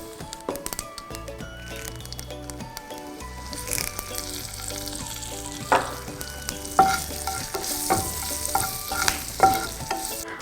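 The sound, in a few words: mustard seeds sizzling in hot oil for sambar tempering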